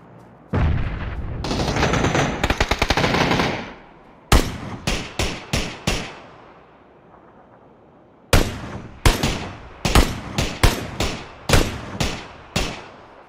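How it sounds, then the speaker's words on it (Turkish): MK-14 rifle fire in the battle-royale game PUBG comes as sharp, loud single shots and short rapid bursts, with a sustained stretch of automatic fire and pauses between volleys. "Ayaklarına sıkıyorum. Benim sıktığım mermiler şeye çarpıyor."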